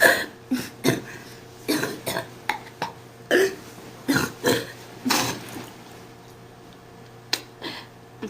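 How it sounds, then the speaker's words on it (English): Repeated harsh, forceful coughs from a person with cystic fibrosis come in irregular bursts, about a dozen, close up, with short pauses between them. "Cystic fibrosis is noticeable by a strong cough, as you have just seen."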